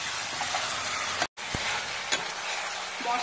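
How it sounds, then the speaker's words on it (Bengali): Mutton pieces frying in spice masala for mutton rezala crackle and sizzle steadily in the pot, with a short break and occasional scraping stirs, close and continuous with no talk. "আমি এখন মাংসটিকে কষিয়ে নিচ্ছি।"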